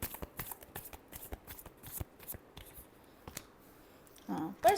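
Tarot cards being shuffled, a quick run of crisp riffling flutters and taps close by, fairly quiet, ending with a few louder handling sounds.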